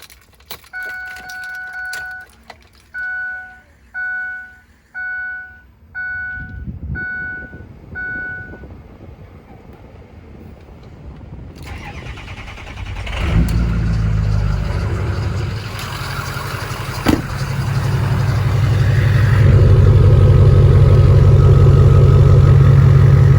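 A diesel truck with a stack exhaust starts up after a run of chiming key-in warning beeps, then settles into a loud, rough idle that swells into a deep, sustained roar close by.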